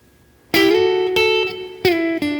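Clean electric guitar lead lick from the solo of a song: three picked notes ringing out, with slides, pull-offs and a wavering vibrato on sustained tones, played alone with no backing.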